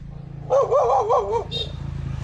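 A dog gives a short, wavering yelping bark followed by a brief second yip, fairly close, over low background hum.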